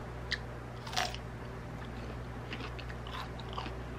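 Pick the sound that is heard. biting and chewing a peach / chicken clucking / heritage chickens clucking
biting and chewing a peach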